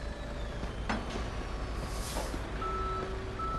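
Reversing beeps from a tow truck in the police patrol video game Police Simulator: Patrol Officers: a few steady electronic tones over a low, constant background rumble.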